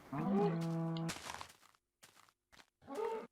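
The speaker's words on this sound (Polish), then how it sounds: "O, krowa biała. Krowa." A cow in the Minecraft video game gives one loud, close moo lasting about a second, followed by a few short, fainter game sounds.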